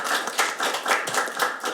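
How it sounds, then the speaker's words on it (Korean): An audience claps at a policy forum on support for children and youth in care, held at the National Assembly. The applause is steady and fairly loud, with dense overlapping claps and no voices. "큰 박수로 맞아주시기 바랍니다."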